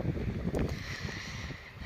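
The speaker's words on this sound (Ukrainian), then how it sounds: "сьогодні вже вітер розігнався" Wind buffets the microphone in a continuous low rumble and rush, with no voices.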